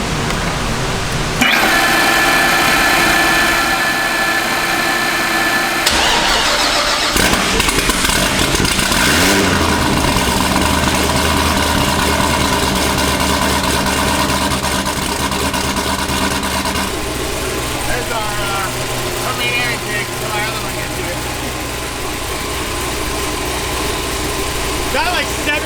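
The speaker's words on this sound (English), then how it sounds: "we mocked one up so that we can start this thing" A supercharged Corvette C6 ZR1 V8 fitted with a mocked-up air intake cranks, catches and settles into a loud, lumpy idle with occasional blips, recorded close, with people talking over it at times.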